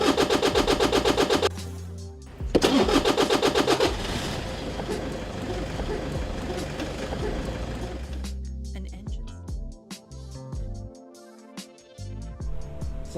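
An animated demonstration of an engine starter system plays: a rapid mechanical chatter of the starter cranking the engine comes in bursts, then gives way to a steady running drone, with a narrator's voice heard over part of it.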